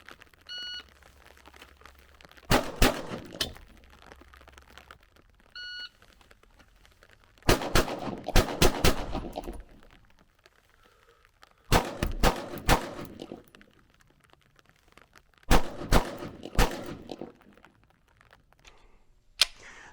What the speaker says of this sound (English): Double taps at 10 yards came in at about 2 inches for me regularly, and extended strings of fire made me feel like I had a much bigger handgun